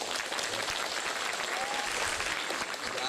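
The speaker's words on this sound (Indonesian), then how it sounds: "tepuk tangan buat beliau" Dense, steady applause from an audience at a school expo in Lembang, filling the full three seconds at an even level with no gaps.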